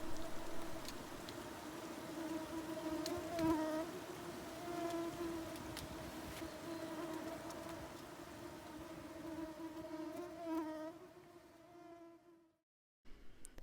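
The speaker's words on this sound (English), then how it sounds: "no wind to either bother us or quell the squads of mosquitoes that lived there" Mosquitoes buzz in a thin, steady, whining drone at a still lakeside camp in Wyoming's Wind River Range, faint and continuous before fading out near the end.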